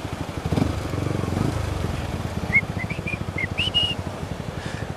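A motorcycle engine runs steadily close by while riding through city traffic between Bacolod and Talisay, a low throbbing drone with a few faint high whistle-like tones over it.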